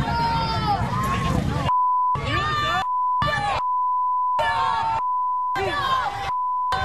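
Shouting protesters at a rally against the Republican frontrunner are cut repeatedly by a steady censor tone; five or six bleeps of about a second alternate with loud crowd yelling.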